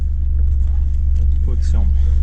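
The engine of a 1992 Fiat Cinquecento 900, a small car, idles in neutral with a low, steady rumble that continues the whole time, while someone speaks quietly near the car.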